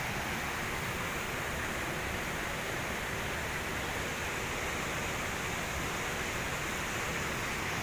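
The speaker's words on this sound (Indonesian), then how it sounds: "Ini dia guys sungainya." Steady broadband rush of river water flowing near a waterfall, a constant loud wash with no breaks and no voices.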